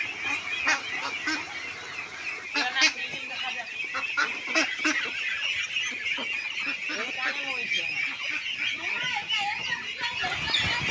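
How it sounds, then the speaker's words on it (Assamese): Local ducklings, 32 days old, being let out, giving a busy chorus of close, repeated honking quacks and calls that overlap steadily throughout, with no talking over them. "এয়া আজি 32 দিনীয়া হাঁহখিনি মই আজি মেলি দিছোঁ।"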